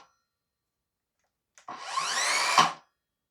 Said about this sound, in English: One thing I really like is the soft start and the blade brake. I mean, it stops absolutely on a dime.